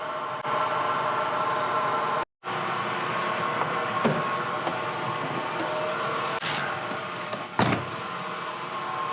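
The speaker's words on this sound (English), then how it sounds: "That's the exhaust coming back this way through the intake and out the breather." A car engine with a misfire runs at idle nearby, a steady hiss of exhaust pushing back through the intake and out the breather, with a brief dropout and a few clicks.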